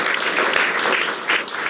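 Studio audience applauding on a French political talk-show set, a dense, steady burst of clapping at close range throughout, with no voices over it.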